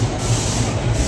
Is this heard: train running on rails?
yes